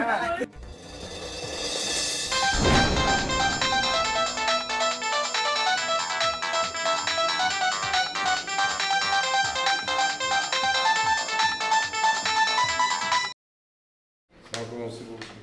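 A telephone ringtone plays loudly and continuously as a repeating electronic melody for about thirteen seconds during a call in a crime drama, then stops abruptly; a voice speaks briefly just before it and again after it ends.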